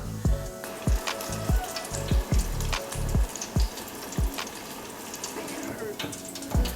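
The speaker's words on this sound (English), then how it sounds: "Go ahead and put these baskets in there. And we're gonna fry them for about 5 minutes or until golden brown." Baskets of salmon deep fry in oil heated to 350 degrees, giving a steady bubbling sizzle. Regular low thumps recur throughout.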